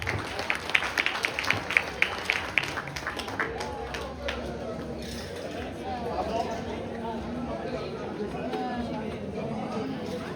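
Scattered clapping from a community gathering of Congolese people in Sherbrooke honouring a committee treasurer, a few sharp claps at first, then blending into crowd chatter and overlapping voices.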